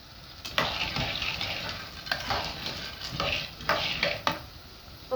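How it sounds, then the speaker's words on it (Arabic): Chicken liver and gizzards sizzle in a hot pan with green peppers, a steady frying hiss broken by repeated scraping strokes of a spoon stirring the pieces at an irregular rhythm. "بنزل بالكبده والقوانص بتاعتنا اهو. وافضل اقلب فيها"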